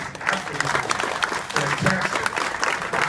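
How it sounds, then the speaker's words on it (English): A crowd at a hotel ribbon-cutting ceremony applauds, with close, uneven clapping that rises and falls under a few scattered voices. "Give yourself a round of applause"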